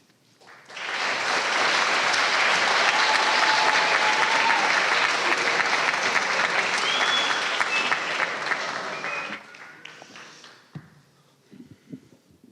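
The audience at a high school public speaking contest gives loud, dense applause that swells quickly, holds for several seconds, then tapers off into a few scattered claps and light taps.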